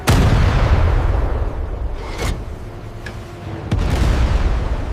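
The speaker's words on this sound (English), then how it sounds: "Fire all cannons!" Heavy booming cannon fire from an armed sailing fleet of Vasco da Gama's era rumbles loudly, with deep sustained blasts and a couple of sharper reports mid-barrage.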